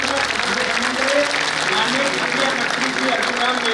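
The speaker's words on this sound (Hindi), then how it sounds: "एक बार जोरदार ताली से" Loud, sustained applause from an audience at the 11th Atal Samman award ceremony at Bharat Mandapam, a dense wash of clapping that holds steady for the whole stretch, with voices faintly audible beneath it.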